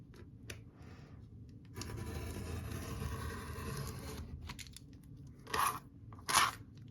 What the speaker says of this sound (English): we're just going to keep cutting through these till we've cut through the entire stack